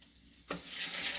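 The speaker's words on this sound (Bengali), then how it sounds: "ফোড়নটা একটু ভাজা হোক" Whole spices, dried red chillies and bay leaves are dropped into hot mustard oil. After a near-silent start, a loud, steady sizzle bursts in and keeps crackling to the end.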